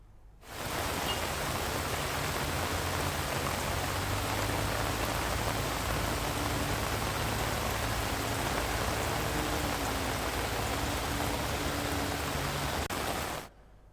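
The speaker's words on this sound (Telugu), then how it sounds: "ఏలూరు జిల్లా నూజివీడ్లో భారీగా వర్షం కురుస్తుంది" Heavy, steady rain roars continuously over Nuzvid in Eluru district, India, with a dense broadband hiss, loud and close, holding evenly from start to finish with no voices.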